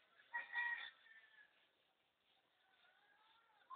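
Neighbor's chickens cluck and call faintly nearby, a short burst of squawking followed by softer drawn-out fowl calls in a quiet setting.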